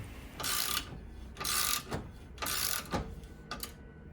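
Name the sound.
pressing metal sleeve into control arm bushing with vise and puller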